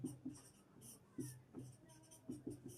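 Chalk or marker strokes on a board while a logarithm equation is written, a series of short scratchy taps and squeaks in irregular bursts, fairly close and quiet, with no talking.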